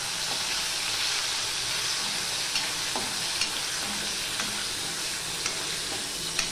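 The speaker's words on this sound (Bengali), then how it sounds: "বেশি ভাজলে মাছের স্বাদ হয় না, অল্প করে ভাজবে, ছোট মাছ বিশেষ করে।" Small fish fry in hot oil in a wok over a medium flame with a dense, steady hiss and sizzle, with a few faint taps from the pan.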